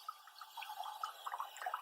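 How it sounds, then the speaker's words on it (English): Water from a newly installed water line pours into a container for farm animals, a faint, continuous trickle with small bubbling splashes. "Water filling."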